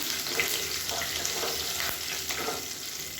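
Curry leaves and crushed lump asafoetida fry in hot oil while hotel-style ground sambar is made, giving a continuous bright sizzle at close range with faint bubbling and stirring, steady and unbroken, no voices.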